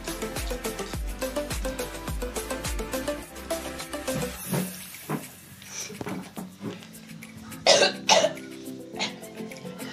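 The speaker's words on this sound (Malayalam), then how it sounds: "ചെറിയൊരു ചുമയുണ്ട് അതിന്റെ." A person coughs after eating green chillies, several short harsh coughs and throat clearing close to the microphone, repeated in bursts, with some quiet talk in between.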